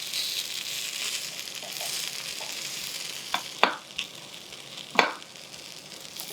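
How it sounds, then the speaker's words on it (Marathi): Rava appe frying in an appe pan, a continuous soft hiss of sizzling batter with a few sharp clicks and scrapes of a utensil turning them, close by. "चला दुसऱ्या बाजूने हे आप्पे खुसखुशीत असे भाजून घ्यायचे."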